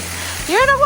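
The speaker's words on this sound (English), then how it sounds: "You're in a waterfall!" A steady rush of water falling at Twin Falls, Rock Island State Park, Tennessee, fills the clip, heard from the base of the falls, with a voice calling out loudly over it near the end.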